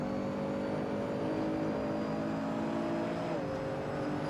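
Race car engine from the racing game Assetto Corsa, a steady sustained drone with strong harmonics holding pitch, then a brief dip as the revs drop near the end; faint talk sits underneath.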